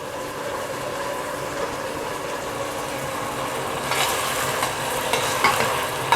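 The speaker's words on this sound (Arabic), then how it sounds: "نقلب المكرونه نختبرها بقى نشوفها استوت ولا لا" Macaroni boiling in a pot of water being stirred, a steady bubbling churn that grows busier toward the end, with a few scraping clatters from the spoon against the pot.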